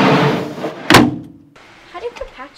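An ARB drawer system slides in the back of a car, a rushing glide ending in a solid thunk, followed by faint shuffling and light knocks.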